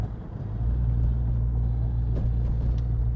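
A 1997 Ford Mustang SVT Cobra passes by with a deep, steady engine rumble that swells quickly and holds loud and close, dominated by low throbbing exhaust tones.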